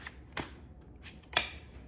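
Tarot cards being shuffled by hand, with a few short riffling bursts separated by quiet pauses, close and fairly soft.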